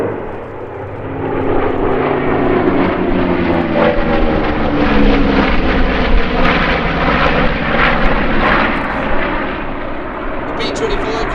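A B-25 bomber flies at the Sywell airshow, its twin piston engines and propellers building into a loud, rough, rumbling roar as it passes close by, then easing slightly, with a voice faintly underneath.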